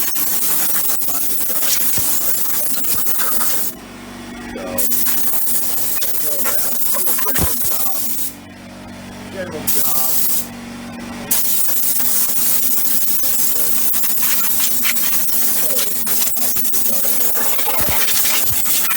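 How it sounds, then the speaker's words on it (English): Compressed air from an air hose hisses loudly and close up as it blasts dirt and dust out of crevices on a John Deere 1025R compact tractor, in long bursts broken by a few short pauses. "So I'll take an air hose."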